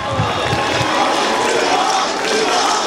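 A crowd cheers and applauds at a live rap performance at Bandırma Onyedi Eylül University, a dense, steady roar of voices and clapping filling the whole stretch without a break.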